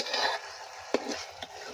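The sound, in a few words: stirring curry in a pot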